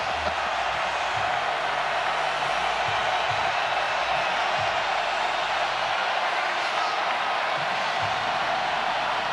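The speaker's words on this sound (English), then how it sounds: "Listen to this crowd, Mike." A college football stadium crowd roars during a 3rd-and-goal play in a 2024 ACC game between Louisville and Georgia Tech, a steady, loud wash of distant crowd noise that holds throughout, with no clear individual voices.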